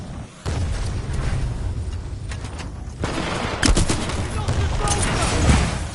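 Rapid gunfire from an anti-Titan gun in a shooter game, with dense loud bursts of shots over a rumbling battle background. A voice talks underneath.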